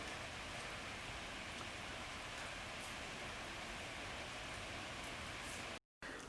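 Steady, even rain falls outdoors on a wet day in the USA, a faint, constant hiss of drops with no other sounds, broken briefly by a moment of silence near the end.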